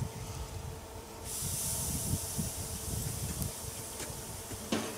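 Bacon-wrapped beef sticks on a barbecue grill give a steady, soft hiss and sizzle with a few faint pops and crackles.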